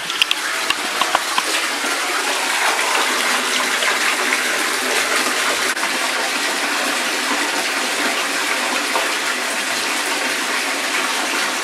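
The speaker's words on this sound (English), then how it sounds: "playing in the shower right there" Shower water runs steadily throughout, a dense continuous hiss and patter of spray landing on a tub and a small child playing in it, with no talk over it.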